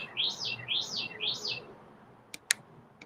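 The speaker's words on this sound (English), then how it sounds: "the birds are loud today." Repeated bright bird chirps in quick rising-falling phrases, fairly loud and close, followed by a couple of sharp clicks.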